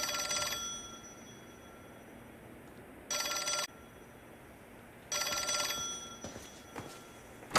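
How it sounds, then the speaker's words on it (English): A phone rings in the video game L.A. Noire in three bursts of bright electronic trilling, each about half a second long, separated by quiet gaps with a low background hum. "Oh, sounds like my phone is ringing."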